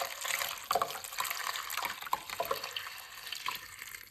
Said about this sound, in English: Then pour hot water over 6 dates.